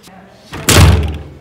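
A hotel room door bangs shut hard and close, a loud heavy thud that rings on briefly, with people's voices in the room around it.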